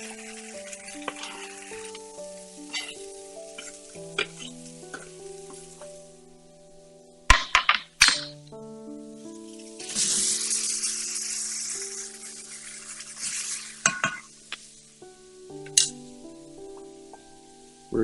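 Onions frying in a pan give a soft sizzle with occasional louder bursts and stirring, heard under steady background music with no talking.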